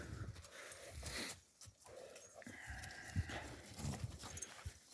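Horse hooves clip-clop in an irregular pattern outdoors as a stallion and mare move about, with scattered thuds and some background noise.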